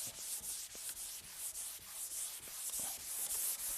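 A sanding block scrubs back and forth over a repaired dent on a car body panel, smoothing out orange peel. Quick, even rasping strokes repeat close up in a steady rhythm, with nothing else heard.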